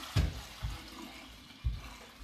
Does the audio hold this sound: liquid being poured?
yes